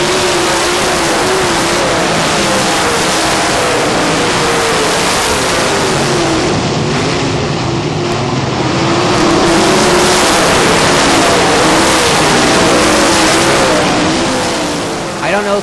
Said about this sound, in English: I don't know if you've ever had an opportunity to be this close to a sprint car yourself